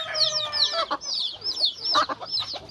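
Chickens cluck and chirp close by, with quick overlapping calls and a short rooster-like call near the start, busy and lively, with no talk.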